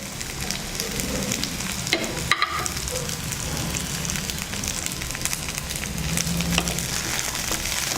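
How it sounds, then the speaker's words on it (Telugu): Pumpkin and carrot pieces fry in a pan for a Bengali-style khichdi, giving a steady, rain-like crackling sizzle that runs continuously up close, with a brief stirring knock partway through and no voices. "గుమ్మడికాయ ముక్కలు అండ్ క్యారెట్ ముక్కలు వేసాం కదా వేగుతూ ఉన్నాయి"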